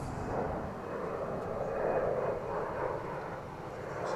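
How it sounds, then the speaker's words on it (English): An Embraer 190 jet airliner takes off for Mexico City from DFW International Airport, heard as a fairly faint, steady engine rumble at a distance with no talk over it. "It's an Embraer 190."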